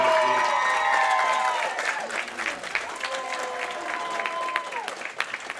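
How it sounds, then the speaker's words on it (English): An audience applauds a finalist at a junior bowling championship, the U12 finals: a crowd's sustained clapping with a sliding tonal sound, like music or a whistle, ringing over it early on, then easing to a steady level. "how about a round of applause for Ryan Campbell on some fantastic play"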